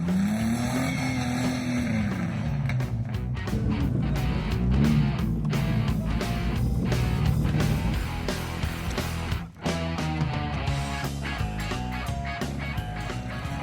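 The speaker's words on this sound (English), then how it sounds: "Sean drives a souped-up Jeep Wrangler TJ" A souped-up Jeep Wrangler TJ engine revs and labours through an off-road obstacle course at a 4x4 club challenge, loud and continuous with music layered over it.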